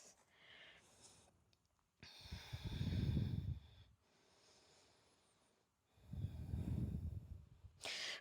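During a power yoga flow, slow, deep breaths through the nose come in two long, heavy strokes, each lasting about two seconds, close and soft, with quiet pauses between them.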